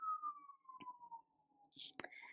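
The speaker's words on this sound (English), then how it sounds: "Sorry, the ambulance was passing." An ambulance siren's wail slowly sliding downward in pitch as it passes, fairly faint, with a few soft clicks and a brief whisper-like sound near the end.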